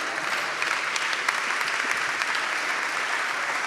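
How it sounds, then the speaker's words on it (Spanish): Church congregation applauding together, a dense continuous burst of many hands clapping at steady loudness with no speech over it. "un aplauso para él"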